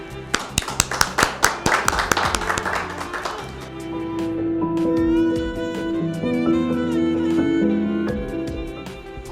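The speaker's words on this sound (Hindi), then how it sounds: "बहुत सारी तालियों में।" Audience clapping at a Mother's Day poetry gathering, a mushaira: sharp, distinct claps that are dense at first, then thin out and stop as music and a voice take over.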